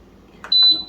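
A single high electronic beep from a Carey electric canner's control panel rings out steadily for a moment after a brief soft rustle, close and clear.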